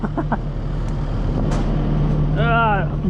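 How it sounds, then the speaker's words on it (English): A water truck pulls up at a fiberglass pool installation site, its engine a steady low rumble with a brief hiss of air brakes near the end, close by and fairly loud. "Water truck's here."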